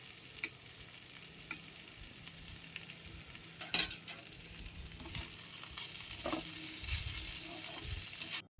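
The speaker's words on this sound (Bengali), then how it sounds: "এরপর ভালো করে খুন্তি দিয়ে এপিট ওপিট আমি নেড়ে নিয়েছিলাম।" Poha with a little ghee stirred and turned in a pan with a metal spatula: continuous soft sizzling broken by several sharp scraping strokes and clanks against the pan.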